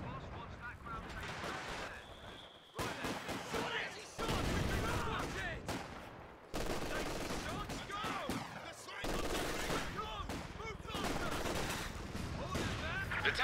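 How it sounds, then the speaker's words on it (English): An artillery barrage in Company of Heroes 2 thunders with dense, repeated heavy blasts and gunfire in a rapid, irregular volley, sustained and loud throughout with brief gaps between salvos. "barrage is on the way"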